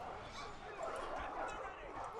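War dogs bark and yip faintly among Total War Arena battle noise, with someone talking over the low, dense mix.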